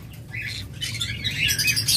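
A pair of pet Fischer's lovebirds, a blue-marked bird with a yellow Fischer's, gives shrill, rapid chirping calls that grow louder and busier toward the end, close by with no talk.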